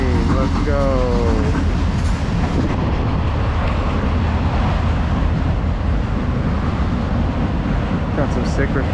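A passing train is heard from an electric Talaria Sting R motorbike on the move, its rumble fairly loud but blurred by heavy, continuous wind noise.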